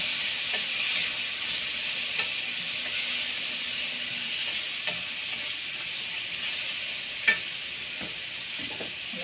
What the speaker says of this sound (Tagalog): Sibuyas na ang hinulog.